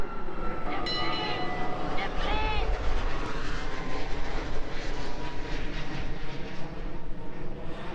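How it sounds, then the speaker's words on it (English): A low, steady roar of jet airplanes passing overhead near a BMX pump track at North SeaTac, Washington, a continuous loud rumble filling the whole stretch, with a brief chirp early on. "there's planes going over probably every 20 seconds"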